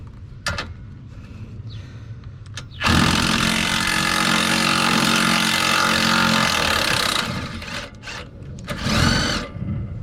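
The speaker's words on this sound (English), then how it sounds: "I am going to pull this bolt right here, and I'm going to do that with a drill" A power drill whirs steadily for about four seconds as it backs out a bolt on a Mercedes 500E, loud and close, with short mechanical clicks and handling noises before and after.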